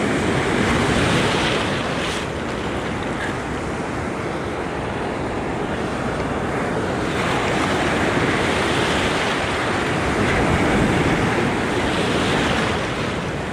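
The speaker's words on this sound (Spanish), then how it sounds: "Poco oleaje" Ocean surf rolling onto a shore during lure fishing, a continuous loud wash of breaking waves mixed with gusting wind noise across the microphone, with no voices.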